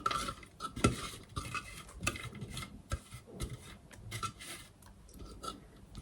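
Sliced onions are tossed into cucumbers in a bowl for a quick pickle, heard as close, irregular scraping and clinking of a utensil against the bowl with short pauses between strokes.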